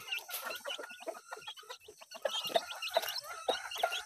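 A breeder rooster and chickens on a farm cluck in quick, repeated bursts, moderately close and soft, with no talk.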